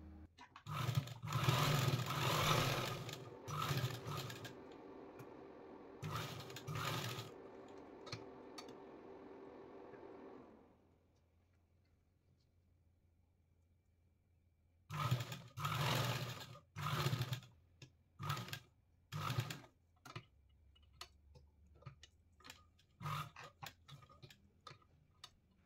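A domestic sewing machine runs in bursts while stitching piping onto a gown, with a long whirring run first, then quiet handling, then several shorter clattering bursts; close and fairly quiet.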